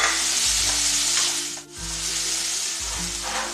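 Tomato frying with ginger-garlic paste in a pan for a Karwar-style clam sukka, a steady close sizzle with stirring scrapes and a brief dip in the middle, no talk.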